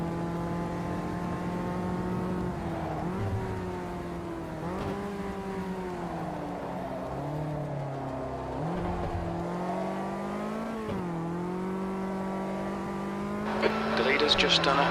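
A Caterham race car engine in the racing game Automobilista 2 drones and revs through gear changes, its pitch climbing and dropping repeatedly, steady and fairly loud, with a person talking over it.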